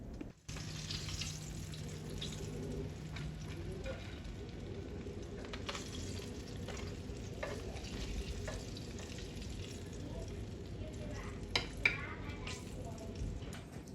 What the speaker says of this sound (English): And that means just usually keep on frying